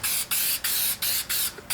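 Five short hissing bursts from a spray can applying adhesive for a car trunk liner, each lasting about a quarter second with brief pauses between, close and clear.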